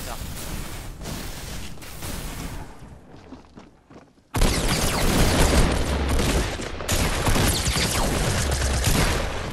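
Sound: MP5 gunfire in Fortnite video game

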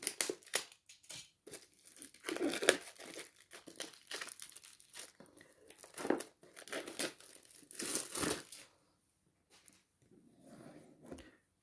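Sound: opening Panini Euro 2020 sticker box and packets

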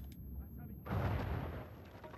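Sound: exploding mummies in the video game Uncharted 4

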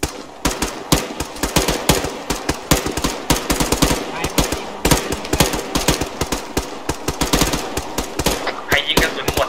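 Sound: gunfire from rifles in video game ARMA 3

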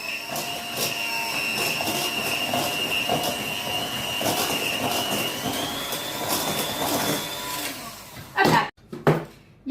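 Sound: beating eggs with sugar for apple charlotte batter

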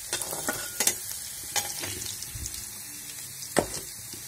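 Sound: fenugreek leaves stir-frying with garlic, green chili and potato

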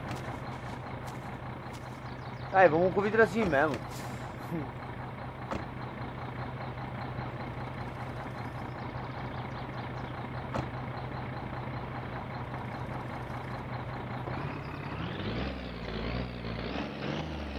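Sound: truck engine and reversing beeps in My Summer Car video game

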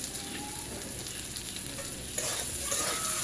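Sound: stirring cumin powder in a frying pan

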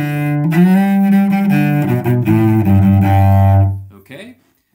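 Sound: cello playing chromatic ornament, saxophone style

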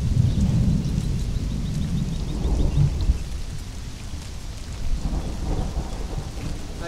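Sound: thunderstorm with thunder in the video game Conan Exiles

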